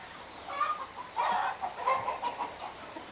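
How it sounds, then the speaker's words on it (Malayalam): Native hens and roosters on a poultry farm, several overlapping clucks and short squawks in uneven bursts, moderately close over a quiet background. "അങ്ങനത്തെ കോഴികളെല്ലാതും നമ്മുടെ അടുത്തുണ്ട് പൂവൻ കോഴികളൊക്കെ ഉണ്ട്"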